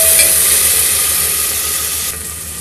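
Chopped tomato added to a sizzling dal tadka and mixed in, giving a loud, steady steamy hiss and sizzle close up that eases slightly near the end.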